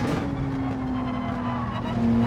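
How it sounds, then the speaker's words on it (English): A race car engine in Gran Turismo 7 at the Nürburgring drones steadily at close range, its pitch shifting as it brakes and downshifts, with a faint tire squeal. "Hit the brakes, drop a couple of gears."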